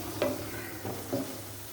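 Eggplant bharta masala fries in a pan and is stirred, producing three distinct scraping strokes over a soft, steady sizzle, close and moderately loud, with no talking.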